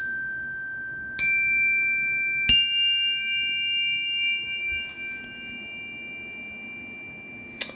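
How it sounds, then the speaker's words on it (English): A metal chime is struck three times, each strike a bright ping that rings out in long, pure sustained tones, quiet and close with no voices. "the best way to do this is with something like a chime"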